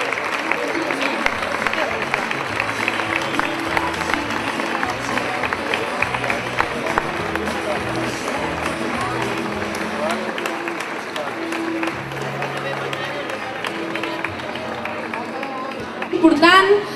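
Strong applause from an audience at a Pubillatge ceremony in Ripoll, a steady dense wash of clapping and crowd noise held for the whole stretch, swelling slightly louder at the very end.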